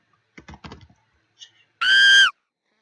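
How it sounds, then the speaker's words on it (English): A single loud, high screech sound effect from a Scratch cartoon animation bursts for about half a second, right after a few soft computer keyboard clicks. "when it's supposed to be scared, we're going to play sound screech"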